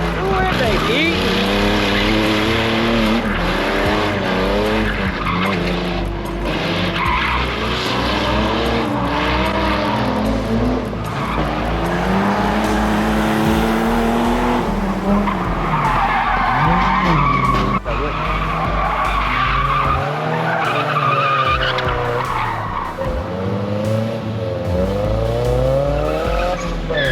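A Ford Ranger drifting at a drag strip, its tires skidding and squealing loudly and continuously over a roaring engine, with people talking over the noise.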